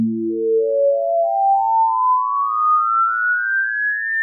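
Synthetic pure tones ascend through a harmonic series from a different base pitch, beginning with deep notes and gliding upward in steadily narrowing steps, loud and clean with nothing else heard.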